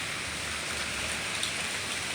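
Heavy rain pours steadily outdoors, a dense, even hiss of downpour with no break over the short span and no voices.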